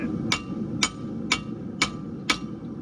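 A hammer strikes a hand-built rodeo hind horseshoe being shaped by a farrier. Five crisp metallic blows land at an even, unhurried pace about half a second apart, close and clear over a quiet shop.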